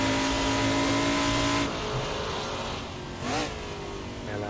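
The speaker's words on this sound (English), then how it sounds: "just the noise, the blipping going underneath the tunnels and the bridges and things." A Trans Am's engine in the Assetto Corsa racing game holds a loud sustained drone, then drops off before a quick throttle blip flares up and fades, all up close with no voices.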